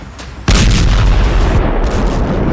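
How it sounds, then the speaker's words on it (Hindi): A bomb blast inside a moving car on a Delhi road near the Red Fort, in the evening: one sudden, very loud boom bursts in and then rolls on as a heavy, sustained rumbling roar with no voices. "दिल्ली की सड़क पर दौड़ती गाड़ी में धमाका हुआ"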